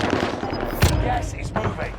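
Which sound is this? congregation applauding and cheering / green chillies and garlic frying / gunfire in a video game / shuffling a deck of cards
gunfire in a video game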